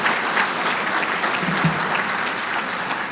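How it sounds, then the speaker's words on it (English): At a Marine Corps awards dinner, a banquet audience gives sustained applause, a dense even patter of many hands filling the hall, with a few faint voices mixed in. "It's just another round of applause for them"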